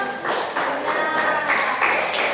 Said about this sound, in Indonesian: berikan tepuk tangan kepada kedua kelompok